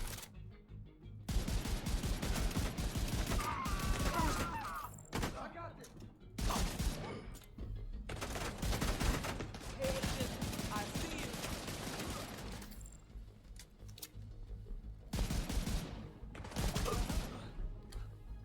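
Gunfire from the video game The Division 2 comes in loud, rapid bursts of shots, separated by brief pauses and running almost continuously, with no talking.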